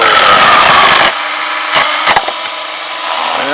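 A mobile tracked saw mill cuts into a log for firewood, loud and steady for about a second before the saw eases into a quieter continuous whine with a few brief knocks.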